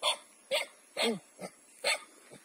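A sibling's dog barks at the family home: about six short, sharp barks in quick, fairly even succession, close and loud, with a brief spoken word in between.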